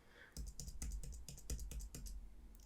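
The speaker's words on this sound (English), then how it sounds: "let's type L about 8 times." A computer keyboard's L key is typed about eight times in a steady, even rhythm of close, crisp clicks with no talking.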